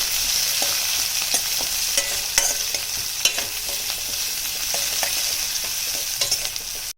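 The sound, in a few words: onions frying in a pan until golden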